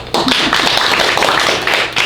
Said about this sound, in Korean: 박수밖에 없습니다